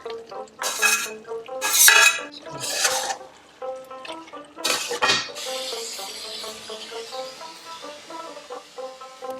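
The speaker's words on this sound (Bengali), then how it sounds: "এর মধ্যে এবার ভাজা চিংড়ি মাছগুলো দিয়ে দিচ্ছি।" Fried prawns tipped into a pot of raw jackfruit curry: several loud metallic clatters and scrapes in quick bursts, then a softer bubbling simmer that carries on alone.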